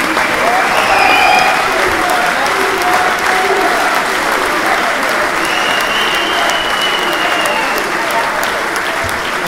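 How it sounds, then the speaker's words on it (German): Loud, sustained standing applause from a crowd after a charity boxing gala bout between two boxers, dense steady clapping filling the hall without a break. "haben ihren stehenden Applaus verdient."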